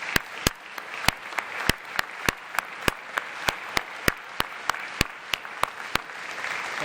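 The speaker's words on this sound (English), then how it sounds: "Please give them applause." Applause at an academic convocation as new faculty are introduced, a soft background of audience clapping punctuated by sharp, rhythmic claps from one nearby pair of hands, steady throughout.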